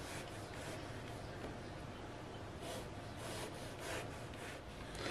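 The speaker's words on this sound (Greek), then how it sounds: "θα βάλουμε τη μελιτζάνα στη μέση και με ένα μαχαίρι θα αρχίσουμε να κόβουμε" Knife blade working through a whole oval eggplant on a board, a steady soft rubbing, sawing scrape running throughout with slightly stronger strokes toward the end, close and fairly quiet.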